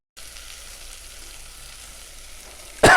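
Vegetables dropped into hot sunflower oil, with a steady soft frying hiss that rises into a sudden loud burst of sizzling at the end.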